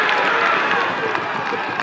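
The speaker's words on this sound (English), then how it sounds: "The York crowd showing some support." A York crowd at a men's rugby union match applauds and cheers in a brief, steady burst of clapping and raised voices.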